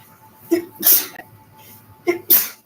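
Two sharp sneezes about a second and a half apart, each with a short intake before a loud burst, close and clear in a quiet room.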